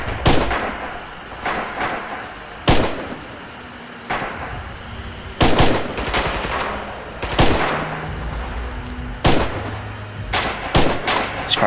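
Rifle and machine-gun fire in the video game Red Orchestra 2: Heroes of Stalingrad, loud sharp reports spaced irregularly over a constant battle din, some shots close and cracking, others duller and distant.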